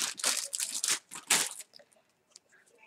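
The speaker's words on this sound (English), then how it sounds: "it came in this plastic bag." A plastic bag holding 18-inch Indian Remy hair extensions crinkles and crunches close by in several sharp bursts, then handling fades to faint, scattered rustles.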